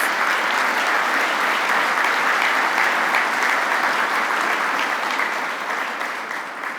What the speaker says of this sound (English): please give a round of applause to all of our faculty award recipients